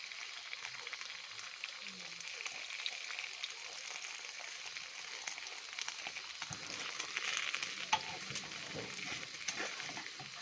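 Eggs frying for a Thai omelette hiss and crackle in a pan with a faint, steady sizzle throughout, quiet and somewhat distant.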